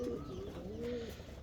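Fancy pigeons coo softly and close by in a short rolling phrase, with a faint background hum and no talking.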